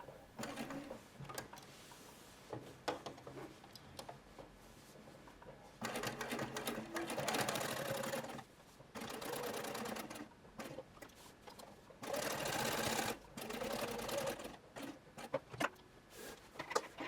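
A sewing machine top-stitching the rever collar of a shirtwaister dress runs in several short bursts of steady whirring, separated by quiet pauses.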